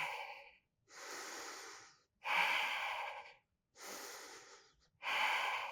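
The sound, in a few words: breathing while holding a yoga pose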